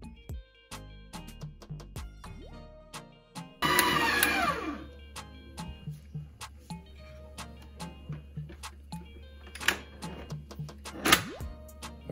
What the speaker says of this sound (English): Before I start the mixer